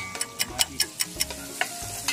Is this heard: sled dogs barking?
no